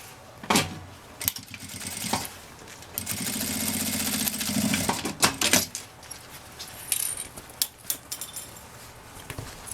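A sewing machine stitches the side seam of a fabric handbag in one short, close run of rapid mechanical whirring, surrounded by sharp clicks, clacks and handling noises of the fabric and machine parts.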